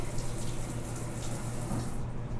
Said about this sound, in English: Let me just rinse this out real quick